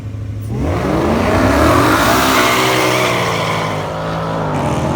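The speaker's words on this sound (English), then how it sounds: "We got a battle of the two fastest cars tonight." Two supercharged Mustangs launch in a drag race, engines revving hard and rising in pitch through the gears as they roar past, loud and close, with some tire squeal, then fading slightly.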